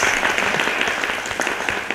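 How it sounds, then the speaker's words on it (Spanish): A small group of women at a group interview with falleras mayores gives a brief round of applause, close and fairly loud, with dense overlapping claps. "¿Le damos un aplauso?"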